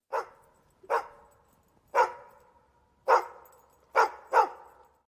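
A dog barking as a sound effect for a sports show segment, six distinct barks spaced unevenly, the last two close together, clear and alone against silence.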